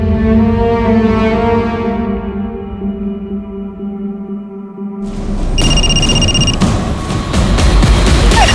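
A loud electronic phone ringtone sustains with rich harmonics, then cuts to a harsher burst of ringing and buzzing noise in the second half.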